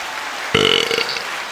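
A single loud, close burp rumbles for about half a second, then trails off into quiet room tone.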